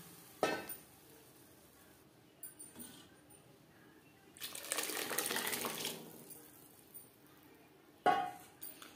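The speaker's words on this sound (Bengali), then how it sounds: "এই পর্যায়ে দিয়ে দেব সেদ্ধ করে রাখা মুসুরির ডাল।" Boiled masoor lentils go into a pan of fried vegetables: a few soft clinks and knocks against the pan, then a wet, sloshing pour for a couple of seconds, all fairly quiet and close.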